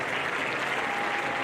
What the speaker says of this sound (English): Let's have another round of applause for our Van Buren High School Hall of Honor members.